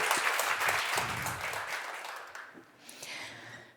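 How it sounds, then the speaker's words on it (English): An audience at a wind energy conference applauds a keynote speaker, with dense, lively clapping that tapers off over a few seconds as a voice begins. "So please give a warm applause to Roxana"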